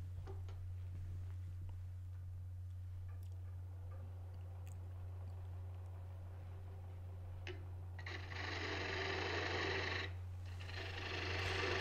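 A wood lathe spins a bowl blank held by the tailstock, no chuck, as a push cut shapes its base: a steady low motor hum throughout, with a brighter scraping cut joining near the end.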